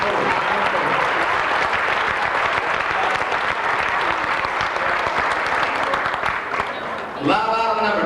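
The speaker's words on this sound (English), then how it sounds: "Give him a heck of a round of applause." Loud, sustained applause fills a crowded hall at a charity auction, dense clapping continuing steadily for several seconds before easing, then a voice briefly cuts in at the end.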